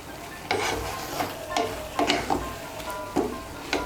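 A spoon scraping and stirring garam masala powder through a pot of mixed dal tarka, with irregular scraping strokes and knocks against the pot over a soft steady simmer, close up and with no talking.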